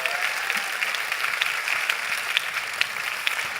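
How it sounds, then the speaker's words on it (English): A conference audience gives a warm round of applause for a speaker joining a fireside chat, a steady, moderately loud wash of clapping with a few sharper individual claps standing out. "Can I please have a warm applause?"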